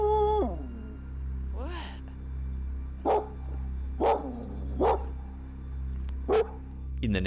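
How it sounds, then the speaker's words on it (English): A dog barks in four sharp, evenly spaced bursts outdoors after dark, following an earlier drawn-out howl-like whine, over a steady low hum. "This after dark footage shows the uploader's dog acting up, barking and howling toward the area where the figure paces."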